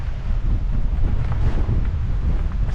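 Strong wind buffets the microphone on the summit of Apple Orchard Mountain beside an FAA tower as a storm moves in, a loud, steady low roar with gusty surges throughout and no voices.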